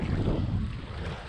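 Low, blustery ocean wind buffets the microphone with rumbling gusts during a fishing tournament, a constant roar that swells and eases slightly.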